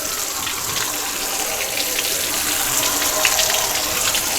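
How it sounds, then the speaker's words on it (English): Water tap running at full stream, wetting watercolor paper on both sides; a steady, loud, close hiss and splash that continues without a break and with no talking. "And I'm just going to use full stream, and I'm going to get it wet on both sides."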